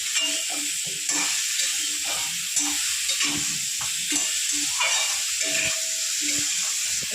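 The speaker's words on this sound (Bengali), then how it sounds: "নেড়ে লাল করে ভেজে নেব" Steady sizzling of pointed gourd frying in a pan with chili powder, with repeated scraping strokes of a spatula stirring throughout, close and continuous.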